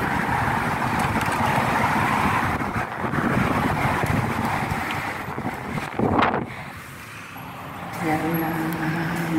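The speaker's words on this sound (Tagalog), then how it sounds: "Lakas ng hangin." Strong wind buffets the microphone in a loud, rushing roar that gusts and eases, with voices heard briefly underneath.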